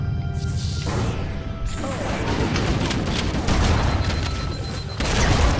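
Grenade blasts and heavy gunfire in the Halo: The Master Chief Collection shooter, a dense, loud, continuous barrage of crashing booms and impacts that holds steady throughout with no pause.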